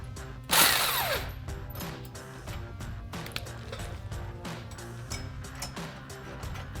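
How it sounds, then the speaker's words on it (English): A 19mm socket ratchet and wrench tighten a side bolt on a Jeep Gladiator JT during coil spacer leveling kit installation, giving a sharp metallic clank followed by steady ratcheting clicks and mechanical tapping at a moderate distance. "to tighten down our side bolt, we'll be using a 19mm socket and a"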